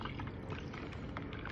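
Lemonade mixture poured from a bowl into a 1-gallon pitcher already holding ice and ice-cold water, a steady, close, continuous splashing pour with no talk.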